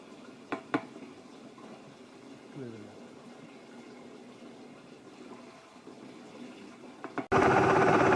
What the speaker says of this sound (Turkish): Roa Plus organik sıvı gübremiz tankın içerisinde müthiş bir şekilde karışıyor